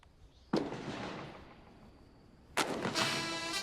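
Two loud, close rifle shots ring out at a military shooting range about two seconds apart. Each sharp crack leaves a long echoing tail.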